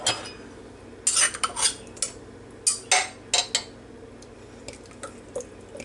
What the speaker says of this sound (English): I'm going to just put this bottle of chili sauce in here.